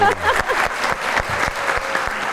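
A studio audience on a Pakistani talk show claps for the people of Mianwali, a short burst of brisk, fairly loud applause, with a voice briefly audible at the start.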